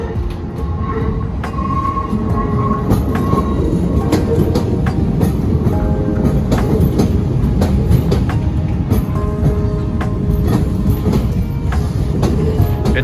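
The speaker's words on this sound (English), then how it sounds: "Arriving now is another terminating Southeastern service." A Southeastern electric multiple unit, led by a Class 466, arrives at London Charing Cross. Steady loud rumble of wheels, with clicks over rail joints and faint squeal tones, continues throughout with no talk.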